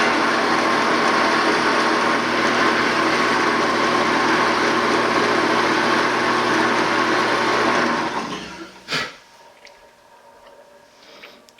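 A drill press with a 27/64 bit bores through a pen blank, giving a steady, loud whirring grind for about eight seconds before the motor cuts off and winds down to quiet.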